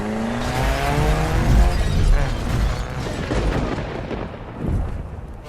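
A 2016 all-wheel-drive Audi Q5 with a two-litre petrol engine rolls off a car transporter under its own power. The engine rumbles with rising revs and a loud clattering burst, then a second surge near the end.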